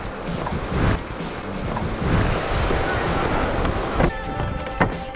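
Loud rushing river water beneath a swaying suspension bridge on a Himalayan trek in Nepal, gusty wind buffeting the microphone, a continuous roar with a few brief knocks.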